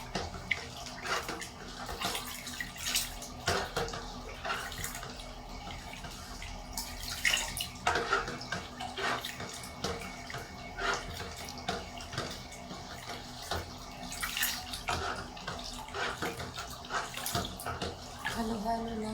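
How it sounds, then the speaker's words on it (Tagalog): Homemade fabric conditioner being stirred in a basin, giving steady liquid sloshing and swishing with repeated scraping strokes close by, alongside occasional quiet speech. "Pagtsagaan lang natin haluin hanggang matunaw na lahat."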